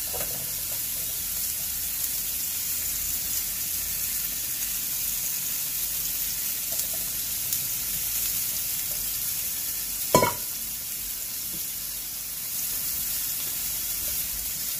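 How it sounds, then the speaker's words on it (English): Asparagus sizzles gently in a little oil in a pan, a steady soft crackle that continues throughout, broken once by a single sharp utensil knock. "I'm going to put a little bit of oil, just a little bit, and I'm going to put my asparagus."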